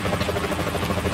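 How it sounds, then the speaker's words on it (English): Helicopter rotor noise from the Metal Gear Solid video game, a steady, fairly loud broadband whir with a low pulsing throb that runs unbroken through the moment with no talk. "The chopper."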